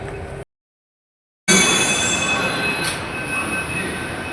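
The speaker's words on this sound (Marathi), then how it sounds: "हे बघा आता मेट्रो थोड्याच वेळामध्ये निघणार आहे आणि बघा निघाले मेट्रो" A metro train pulls out of a station. After a moment of silence, a loud, steady rumble of rolling carriages sets in, with high wheel squeal running throughout.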